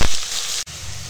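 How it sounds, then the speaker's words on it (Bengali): Sliced potatoes drop into hot oil in a wok with dried chili, turmeric and salt, giving a loud, dense sizzle that briefly cuts out and then resumes, with no talking. "এবার আলুটা দিয়ে দেবো। দেব হলুদ আর দেব স্বাদ মতো লবণ দিয়ে আলুটা ভেজে নেব।"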